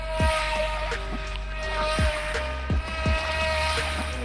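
HXJRC HJ808 RC speed boat with a small 390 brushed motor running under throttle, a steady high electric whine close by with a few soft thumps and water splashes as the hull hits the surface.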